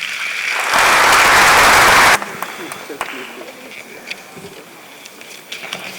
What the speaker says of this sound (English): please help me with warm applause as we welcome up here the Honorable Betty Mould Idrisu